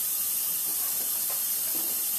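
Warm water runs from a tap into a kitchen sink to soak dishes, heard as a loud, steady broadband hiss and rush that carries on unbroken, with no voices over it.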